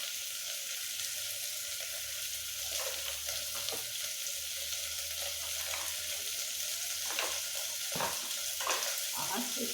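Khichuri sautéing in a pan with turmeric, salt and cumin powder gives a steady, fairly quiet sizzle with faint scraping stirs that stay continuous and close throughout, with no talking.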